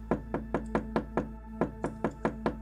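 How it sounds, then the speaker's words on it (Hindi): Hard, loud knocks on the inside of a wooden cupboard, about a dozen evenly spaced thumps in a steady, insistent rhythm over a constant low hum. "अलमारी के अंदर से जोर जोर से नॉक करने की आवाजें आना शुरू हो गई"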